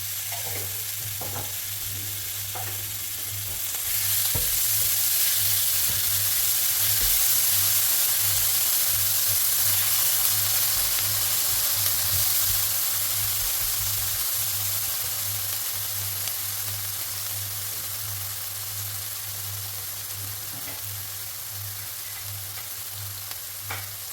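Leeks and garlic paste fry in a pan with a steady, close sizzle and hiss, swelling louder for a while before settling, under a low background hum.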